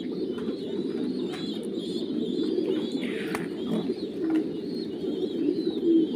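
Pigeons in a newly paired nest coo softly and repeatedly at close range, low throaty calls rolling over one another continuously with faint chirps and rustles.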